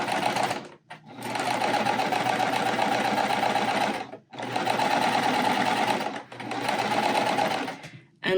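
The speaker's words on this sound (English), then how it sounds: "I do prefer to chain stitch them" Sewing machine chain stitching quilt pieces, three long bursts of fast, close mechanical whirring separated by brief pauses.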